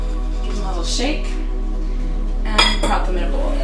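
A few light glassy clinks and rattles as a jar of rinsed broccoli seeds is shaken, close by, with a sharper knock partway through over a faint background hum.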